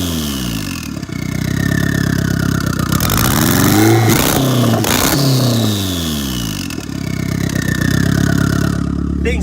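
Turbocharged Mazda Miata engine revving loudly, with sweeping rising and falling pitch through several throttle blips, then settling back to a steady, close-up drone.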